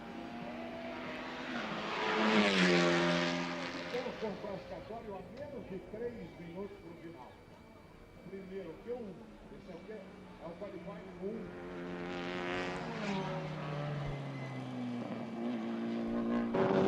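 A TCR touring race car completes a qualifying lap at the Velocitta circuit, its engine droning loud and steady with rising revs and passes, while a commentator talks over it throughout.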